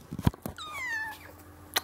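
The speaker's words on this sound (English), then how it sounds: "That's my best friend's little boy's cat." A young boy's pet cat gives one drawn-out, rising-then-falling meow at close range, with a couple of brief thumps and a small click around it in a quiet indoor room.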